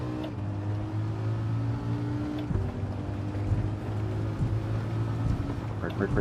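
A race car in the WTC 600 video game at Tokyo South runs with a steady droning engine hum, sliding a little under throttle control, while a person talks over it throughout.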